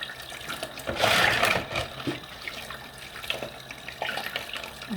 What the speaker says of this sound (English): You need to make sure you rinse it with a clear water.